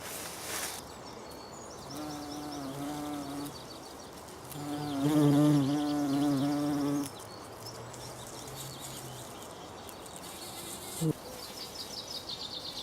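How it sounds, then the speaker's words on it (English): Bees buzz close by, droning in two longer passes that rise and fade against a quiet outdoor background. "Like all bees, they collect both nectar and pollen."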